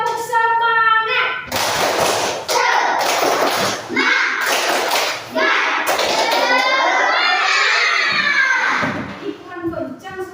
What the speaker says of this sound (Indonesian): Kita nyanyikan sedikit tepuk semangat